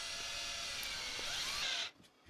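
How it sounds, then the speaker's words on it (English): A power drill pre-drills screw holes in wooden butt-jointed box pieces, whirring with a steady high whine for about two seconds before it cuts off abruptly into near silence. "I'm marking up the screw holes to pre-drill these."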